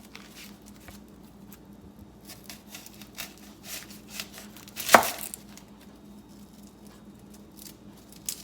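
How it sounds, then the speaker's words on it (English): A knife cutting a red onion on a board, quiet scattered taps and slicing sounds with one sharp, louder chop in the middle. "this is a very easy and simple and quick way to cut up an onion"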